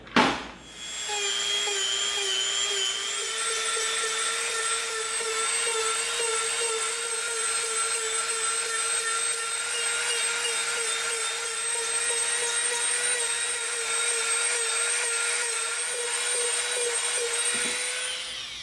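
A high-pitched rotary tool whines steadily as a coarse bit grinds a bevel into EVA foam, close and continuous, with a sharp start and a brief dip near the end.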